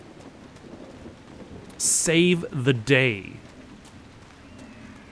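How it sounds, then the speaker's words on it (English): Rain falling in the video game Dragon Age: Inquisition, a steady low hiss running beneath a brief spoken line. "Maybe that'll stop it from raining all the time?"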